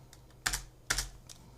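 Keystrokes on a computer keyboard while entering a node name in Houdini: a few light taps, then two louder, sharper clacks about half a second apart and one last soft tap, close up over a low steady hum, with no talking.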